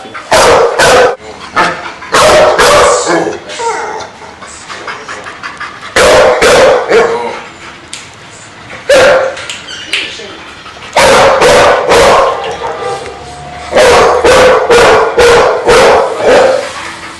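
A dog barks in loud, close bursts of rapid yelps, repeated in clusters with short pauses between them.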